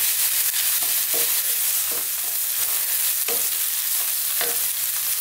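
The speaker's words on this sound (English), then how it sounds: "And again, about another 2 minutes stirring all the time." Fish curry masala with curry leaves sizzles steadily in a pan while a spoon stirs through it, scraping in several short, separate strokes over a continuous frying hiss, with no voices.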